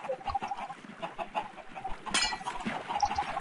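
Chickens cluck steadily in a block-built automated egg farm in a video game. Many overlapping bird calls come close and clear, with a short sharp knock partway through.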